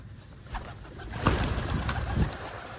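Low, soft pigeon cooing repeats in short phrases over a steady outdoor background hum, with a brief louder burst partway through.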